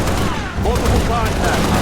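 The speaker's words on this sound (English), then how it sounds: "Heavy fire in my position." Heavy gunfire from the video game Halo: Reach crackles in a brief dense burst, loud and continuous, with a voice partly under it.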